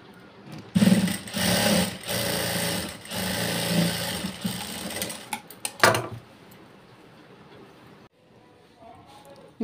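A sewing machine stitches a blouse in bursts of rapid mechanical whirring, stopping and starting, with someone talking quietly over and between the runs.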